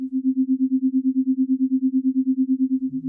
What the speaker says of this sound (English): we hear the tremolo getting quicker until it turns into a metallic sound